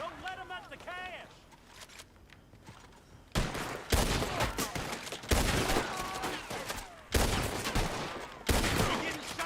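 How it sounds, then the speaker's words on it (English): Gunfire in the video game Red Dead Redemption 2 erupts in loud, dense bursts after a brief spoken exchange, with repeated heavy volleys crackling through the rest of the stretch. "You're getting shot at, all right."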